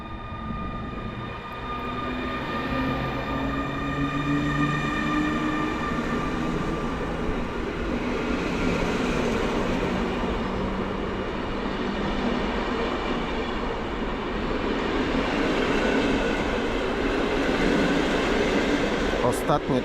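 An EU160 electric locomotive with a passenger train at Warszawa Wschodnia station, a continuous rumbling rail roar with faint tonal whines and squeals from wheels and motors, steady throughout at moderate distance.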